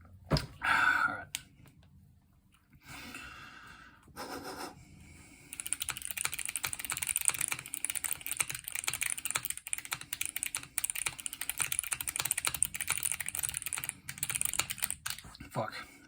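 Fast, steady typing on a keyboard fitted with NK Cream Clickies switches, with dense crisp clicks running close and loud for most of the stretch after a short, quieter start.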